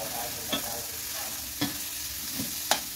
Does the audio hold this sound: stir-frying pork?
yes